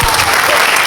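Classroom applause for a student, a brief burst of clapping from a group of learners, loud and close, lasting under a second.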